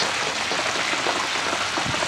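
Water from a running pool pump streaming into a swimming pool, a dense continuous splashing hiss close to the microphone with no break.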